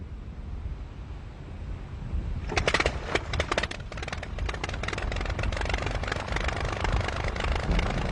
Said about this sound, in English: This Blériot, from the old Rhinebeck Museum in New York, has an Anzani engine similar to the one that powered Blériot's historic flight.